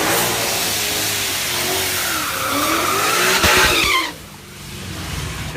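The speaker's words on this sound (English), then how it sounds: "About a drag racing event." Race cars at a drag racing event roar past at full throttle, engines revving and pitch sweeping upward as they pass close by, then the sound drops off sharply into a lower, more distant rumble.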